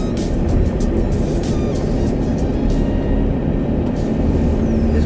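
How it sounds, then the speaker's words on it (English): A 4x4 driving in second gear on shale, heard from inside as a loud, steady engine drone with a dense rumble and crunching road noise that stays constant throughout, without talking. "Second gear. And we are driving round the shale."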